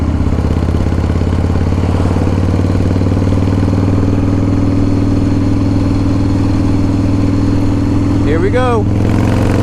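A 2016 custom-built motorcycle idles nearby with a loud, steady low rumble and even pulsing throb throughout, while someone speaks briefly over it and a short chirping sound appears near the end.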